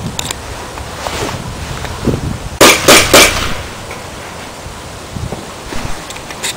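Several sharp bursts of an airsoft gun firing close by, three quick pops in a row over a breezy outdoor background.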